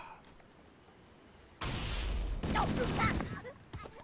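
Explosions and gunfire in the video game Halo: Combat Evolved, a sudden loud burst of booming blasts and rattling shots after a quiet stretch, continuing for a couple of seconds before fading into scattered noise.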